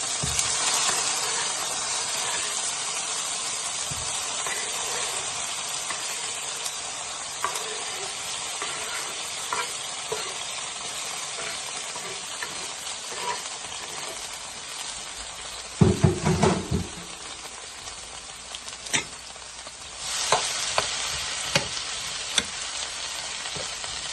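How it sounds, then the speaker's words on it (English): Peppers, scallion, garlic, onion and scotch bonnet pepper sauteing in a pot, a steady close sizzle with occasional stirring clatters and spoon knocks against the pot. "So I'm just going to put everything in the pot to saute it down."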